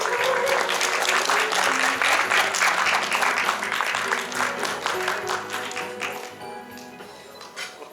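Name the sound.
audience applause at Sony Korea product launch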